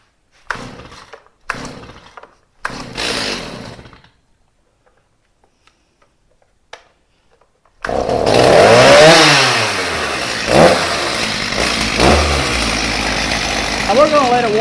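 A Stihl chainsaw that previously would not run takes three short pull-cord tugs, then after a pause roars to life and keeps running loudly, its engine revving up and settling near the microphone.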